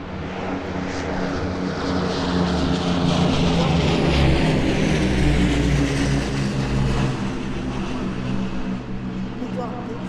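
A propeller aircraft departs at an airshow on the Eastbourne seafront, its loud, steady engine drone swelling and then easing slightly over the whole stretch while a commentator talks over it.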